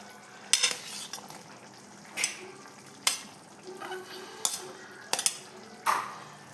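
Paneer cubes go into a pan of potato curry and get stirred: a metal spoon scrapes and clinks against the pan in about eight separate strokes, with a faint sizzle underneath and no talking.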